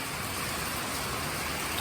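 Steady rain outdoors on a gloomy day, a dense, even hiss of drops falling continuously without pause for the whole stretch, fairly close and moderately loud with no voices over it.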